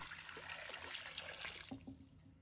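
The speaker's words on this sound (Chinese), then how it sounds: "倒入清水" Clean water pours steadily into a pot holding cut radish, a dense splashing trickle that runs loud for about a second and a half before thinning to a softer dribble.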